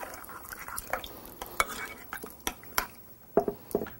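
Rib marinade of soy sauce and rice vinegar being stirred, with intermittent spoon clinks and scrapes against a bowl over a soft wet swishing, close and fairly quiet.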